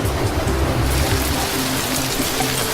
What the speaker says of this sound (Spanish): La lluvia cayó en las montañas del valle.